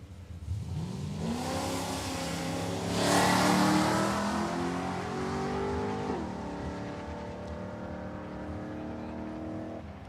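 Drag race car making a pass at Palmyra Raceway, its engine note climbing steeply through the gears with a brief roar peak, then holding a loud, steady high drone as it pulls away.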